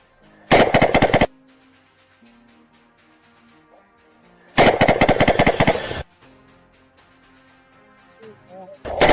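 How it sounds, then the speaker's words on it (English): Automatic weapons fire during a frontline assault in the Russia–Ukraine war: two loud, dense bursts of rapid shots and a third starting at the end, separated by quieter stretches of murmured voices and low rumble. "The assault began with the use of automatic weapons and grenades."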